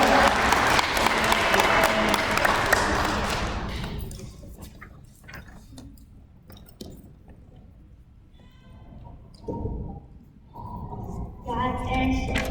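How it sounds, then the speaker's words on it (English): Audience applause rings out for a pageant contestant at a children's princess pageant, loud clapping for the first few seconds before fading into quieter room noise, scattered sounds and brief talk. "Let's give her a round of applause as she makes her way up."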